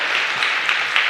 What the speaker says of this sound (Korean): 여기까지 인도하시는 우리 하나님께 큰 영광 박수를 올리십시오.